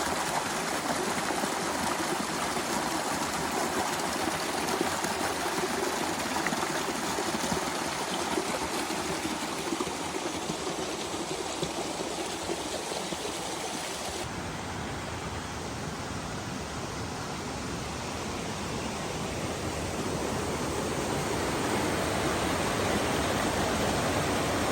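Swollen creek water rushing along Swallow Fork Trail in the Great Smoky Mountains, a continuous broad roar, steady and close throughout with no talking.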